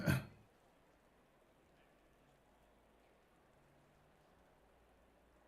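Steady rain hiss in the LMU (Le Mans Ultimate) racing game at Monza, a soft continuous wash of falling rain after a brief louder burst at the start, with no voices.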